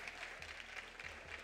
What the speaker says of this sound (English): Can we get a round of applause for Coach Cristobal